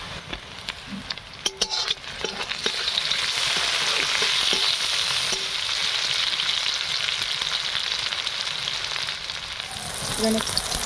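Tomato added to frying onion in a pan: a few utensil clinks, then the sizzle swells into a strong, steady frying hiss that carries on to the end with light stirring clatter; no voices.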